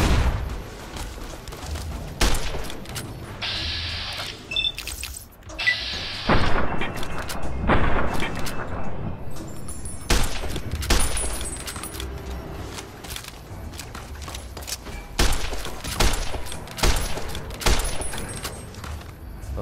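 Rifle gunfire in the video game Fallout: New Vegas: scattered, sharp shots ring out at uneven intervals among other game action, with little else going on.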